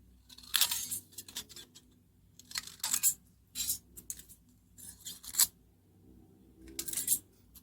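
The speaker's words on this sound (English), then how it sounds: "I'm going to cut a straight portion. It's an aluminum foil." Scissors snipping through a sheet of stiff aluminum foil during a ball pen repair, a series of crisp crinkly cuts in bursts with short pauses between, close and fairly quiet.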